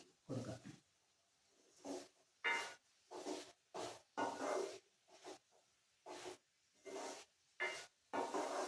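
A spoon scrapes through eggplant curry in a pan in a series of short, separate stirring strokes, each a brief rasping scrape with quiet pauses between.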